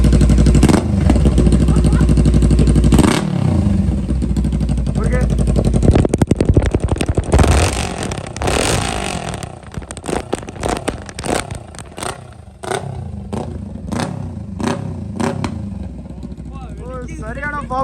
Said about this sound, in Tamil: BS4 இது வந்து BS4ல் வித்தவுட் எக்ஸாஸ்ட் சவுண்டு